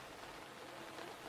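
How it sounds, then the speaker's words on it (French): Steady rain falling outdoors, a soft, even hiss of drops spread across the whole clip with no pauses, fairly faint and heard alone without any voices. "Je ne veux pas être mouillé quand la pluie tombe du ciel."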